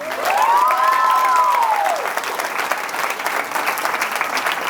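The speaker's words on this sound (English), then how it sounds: "Y'all clap it up for my mom." Audience at a live talk applauding loudly and steadily, a thick wash of many hands with a brief rising-and-falling whistle early on, fading slightly toward the end.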